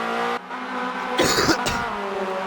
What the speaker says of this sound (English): Apologies for my coughing